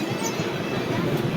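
A Mumbai local train rumbles close by, its wheels grinding and rattling as a continuous broadband roar for a short stretch, with possible voices faintly mixed in.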